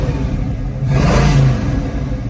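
A 1978 Pontiac Trans Am engine revs up close by, its exhaust rumbling and rising in a swelling surge before settling back to a steady idle.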